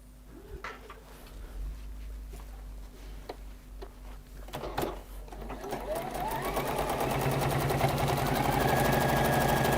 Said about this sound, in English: I'm going to increase my stitch length. I'm going to baste that all in place.